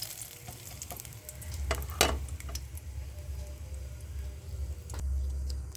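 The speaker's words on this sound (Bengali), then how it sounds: "তেল গরম হয়ে গেছে, তেজপাতা দিলাম একটা।" A bay leaf dropped into hot oil, crackling and sizzling close by with scattered sharp pops and ticks over a low steady hiss.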